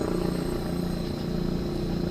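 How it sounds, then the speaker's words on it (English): Steady low rotor drone of a search helicopter overhead during a manhunt, continuous and fairly loud, with no voices. "You can hear"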